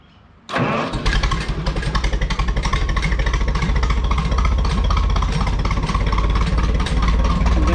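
A Minneapolis Moline tractor engine fires up abruptly and then runs loud and close in neutral with a steady, rapid chugging idle throughout.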